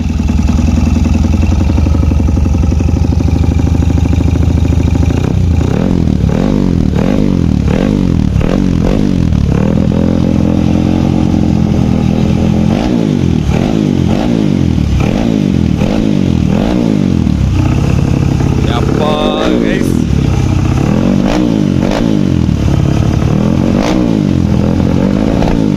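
A 2002 Yamaha RX 135 five-speed motorcycle in full stock condition revs repeatedly up close, with sharp two-stroke bursts rising and falling in a loud, rhythmic pattern.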